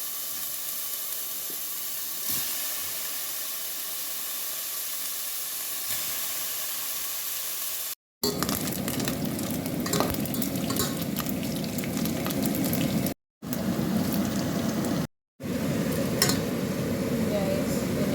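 Meat added to a pan with ginger, garlic, onion and tomato bursts into loud, steady sizzling that runs on with brief cut-offs. Before it, a quieter frying hiss plays alone.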